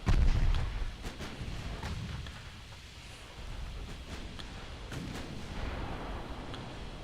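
Naval guns boom in the warship game Ultimate Admiral Dreadnoughts, a heavy low blast at the start followed by distant rumbling shots and a sustained battle din.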